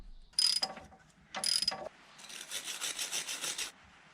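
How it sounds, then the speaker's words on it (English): A 10mm socket ratchet works a Td5 oil pump sprocket bolt: two short bursts of clicking and rubbing, then a longer run of rapid ratchet clicks, close and fairly quiet. "you need a 10mm socket to take off the sprocket bolt"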